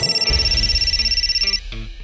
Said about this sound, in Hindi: वो पार्लर से फोन है